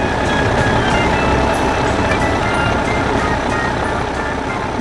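An animated yellow garbage truck at a construction site gives off a loud, steady mechanical rumble with a faint beeping tone threaded through it, continuous and close for the whole stretch.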